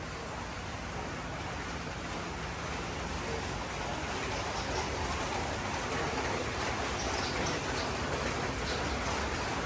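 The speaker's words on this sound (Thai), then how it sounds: "แต่วันนี้ฝนตกนะ ก็เลยต้องจอด" Steady rain falls on a rice-harvesting site where a combine harvester sits parked, a continuous even hiss of drops spread across the whole clip with no talking.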